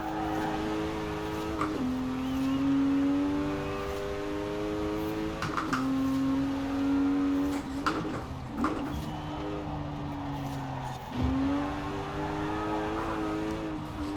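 A Porsche Macan rally build with nearly 1,000 horsepower races in Forza Horizon 4, its engine revving hard and steadily, with pitch dropping at several gear shifts and climbing again, up close and without talk.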